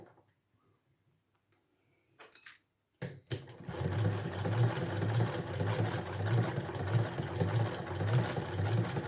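After a couple of seconds of near silence and a few clicks, a sewing machine starts up and runs steadily, stitching a handbag pocket with a rapid, even mechanical whir and rhythmic ticking.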